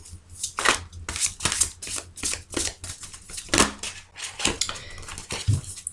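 Tarot cards are shuffled by hand in quick repeated riffling bursts and soft slaps, close and fairly loud, with no talk.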